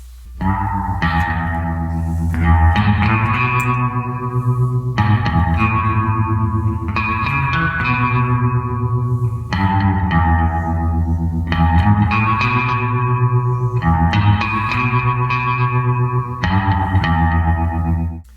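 Twangy electric guitar melody, drenched in echo and reverb, playing continuously with a steady rhythm backed by bass and drums, loud and up front.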